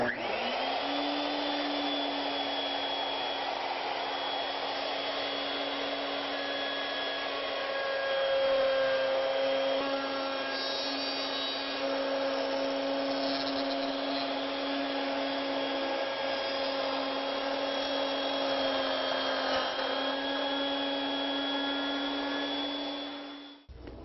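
Overhead router cutting wood at a quarter inch per pass, a steady high whine held loud and continuous, with a slight rise in pitch partway through and no talk.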